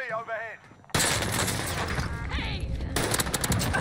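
Rapid gunfire bursts in Call of Duty Warzone play loud and dense after a brief pause, with a short break partway through before heavy firing resumes.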